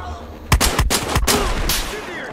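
Gunfire in the shooter video game Battlefield Hardline: several sharp, loud shots in quick succession, closely spaced bursts with booming low thumps and a fading tail.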